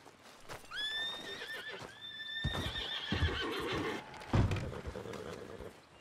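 A horse in Red Dead Redemption 2 neighs twice in quick rising whinnies, close and clear, followed by soft hoof clip-clops and shuffling thuds, with no talking.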